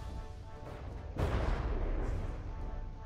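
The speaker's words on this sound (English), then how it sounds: "when those shells started hitting the side" Shells striking a ship's side in the naval combat game From the Depths, a sudden heavy boom followed by rumbling impacts under faint background noise.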